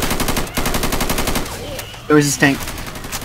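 Rapid video-game machine-gun fire with incendiary ammo rattles steadily for about two seconds, loud and close, then breaks off. A voice speaks briefly over the tail of the firing.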